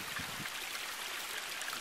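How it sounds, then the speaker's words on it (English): Steady flowing water from a small stream being crossed on a hillside hike at a ridge preserve in March, a continuous close rushing trickle with no voices. "we're crossing a stream here."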